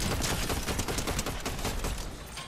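Rapid bursts of gunfire from the video game Fortnite crackle in a dense fusillade, loud and continuous, tapering slightly at the end, with no speech over them.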